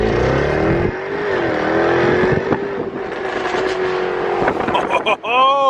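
A car with automatic transmission shifted into manual mode pulls away hard in first gear, the engine rising and droning loudly up close, with people talking over it and an exclamation near the end.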